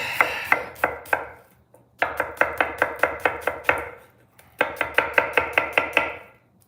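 Knife chopping spicy onions on a cutting board during live pasta e fagioli cooking, three quick bursts of rapid, crisp, evenly spaced chops, close and loud, with brief pauses between bursts and no talk.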